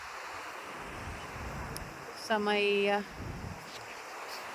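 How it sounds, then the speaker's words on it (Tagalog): Waves and wind on a seashore at Poro Point during a beach walk, a steady broad wash of surf and wind noise throughout, with a brief burst of voice in the middle. "Dito kami ngayon sa, tabing dagat at naglalakad-lakad."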